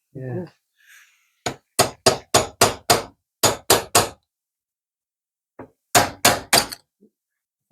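Hammer blows knock a seal out of the housing of a New Holland TN70A tractor, loud close metallic strikes in two quick runs of about seven and five, with brief talk at the start.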